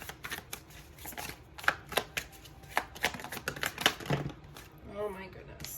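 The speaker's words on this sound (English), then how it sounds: "I'm having one hell of a time shuffling today." Tarot cards being shuffled by hand, a run of quick irregular riffling snaps and slaps close up, ending with a short soft rustle.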